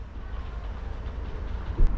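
Train at Droitwich Spa station, a low steady rumble of rolling stock with faint rail clatter, moderately distant, swelling slightly at the end, no voices.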